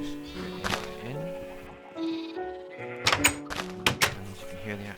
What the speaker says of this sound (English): you can hear the animals. There's quite a lot of sheep.